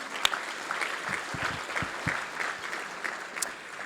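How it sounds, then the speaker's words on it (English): A crowd claps in steady, moderately loud applause that carries on evenly throughout, at a chamber of commerce State of the City event. "Let's give them a round of applause here."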